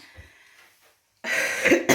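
A single harsh cough, close and loud, after a brief quiet moment with faint breathing.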